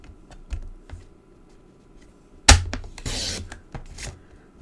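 A blade slices through paper card from corner to corner in one sharp, close stroke followed by a brief rough tearing drag, with light taps and handling noises before and after.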